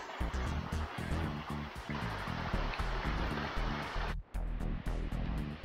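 A waterfall pours down a rocky mountain stream at Tsao Shing stream near Shing Mun Reservoir in Hong Kong during the dry season, a close, constant rushing roar of water with a brief dip near the end.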